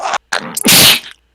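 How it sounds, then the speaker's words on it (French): A single sharp human sneeze, preceded by a quick intake of breath, close and loud, then silence. "Dernier éternuement de la journée."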